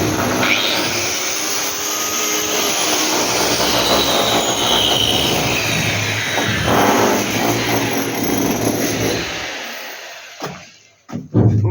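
A wall cutter slices grooves into a new house wall for bathroom and kitchen fittings, a loud, continuous abrasive whine that grinds on steadily close by before spinning down and cutting off near the end.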